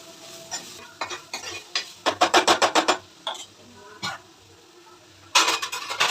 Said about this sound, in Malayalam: ഇളക്കി വെച്ച് കൊടുക്കാം.